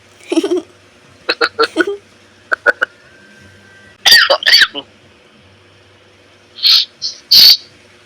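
Several short bursts of coughing come in clusters, separated by quiet pauses, fairly loud and close.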